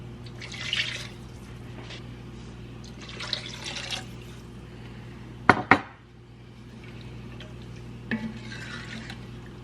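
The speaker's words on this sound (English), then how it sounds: "and then I will add the rest of my broth." Beef broth poured into a stew pot of browned beef: soft liquid splashing and stirring under a low steady hum, broken by a couple of sharp clanks of a utensil against the pot.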